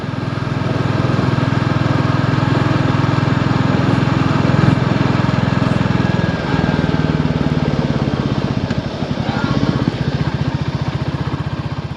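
A Royal Enfield Classic 350 motorcycle idles and revs steadily, the single-cylinder thump and exhaust chugging continuously for twelve seconds, loud and close, with a brief dip in the middle and no voices.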